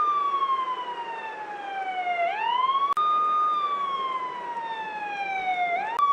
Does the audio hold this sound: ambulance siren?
yes